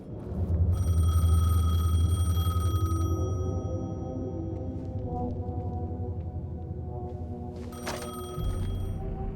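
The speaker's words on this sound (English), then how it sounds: "The payphone was ringing." A payphone rings in the video game Alan Wake 2 with a sustained electronic bell tone that stops partway, leaving a low rumbling ambience before another brief burst of ringing near the end.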